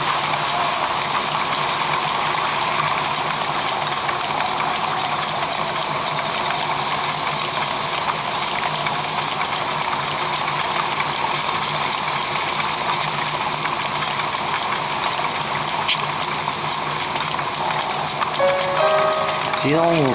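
Steady rain falling in The Legend of Zelda: Breath of the Wild, near the route to Zora's Domain: a constant, dense wash of splashing water throughout, with someone talking over it.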